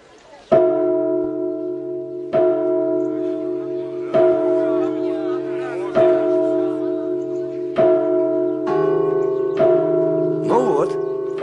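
A church bell rung by hand in an old Russian setting strikes again and again at a steady pace, each loud stroke leaving a long ringing hum, with a slightly different bell tone joining near the end.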